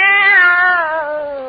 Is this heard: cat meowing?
yes